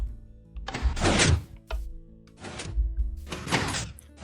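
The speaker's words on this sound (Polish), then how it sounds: "Drzwi się otworzą, będziemy mogli sobie przejść. Drzwi się po chwili zamkną" Doors in the Minecraft video game, worked by a redstone relay mechanism, open and close in three heavy sliding thunks, each with a short mechanical rush, spaced over four seconds.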